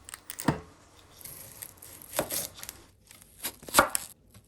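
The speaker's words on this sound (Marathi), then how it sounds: "आता 2 कांदे घेता हांव आणि बारीक शिनून घेता" Knife finely chopping two onions on a board for a Goan green chicken curry, heard as three or four separate crisp cutting bursts spaced apart, fairly quiet with no talk.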